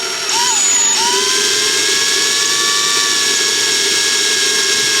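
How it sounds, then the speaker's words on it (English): A twist drill bit bores through a block in a luthier's workshop, giving a loud, steady whine with a rising pitch at the start that then holds an even tone for several seconds, close to the microphone. "so if this twist drill bit grabs when it goes all the way through the block"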